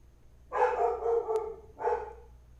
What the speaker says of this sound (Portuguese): Minha cachorra tá só que late.